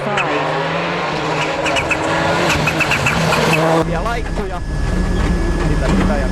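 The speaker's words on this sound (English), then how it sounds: "He reaches the rev limiter" Rally car on a Monte Carlo stage in 2004 WRC, its engine screaming at high revs and bouncing off the limiter with sharp pulsing cuts, loud and close, while a commentator talks over it.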